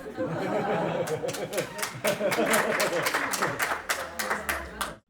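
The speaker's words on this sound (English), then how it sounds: "I'm going to put like an actual applause in" Applause added in editing, a burst of crowd clapping with sharp repeated claps across the whole stretch, mixed with chatter and light laughter before cutting off.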